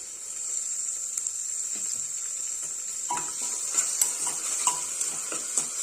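Tomatoes softening in a pan with onion and ginger-garlic paste for a cowpea curry, giving a steady soft sizzle with occasional clinks and scrapes of a stirring spoon against the pot, close and alone.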